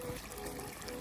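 Strong flow of water running through a field, a steady close trickling and gushing that fills the short moment alone, with no voices.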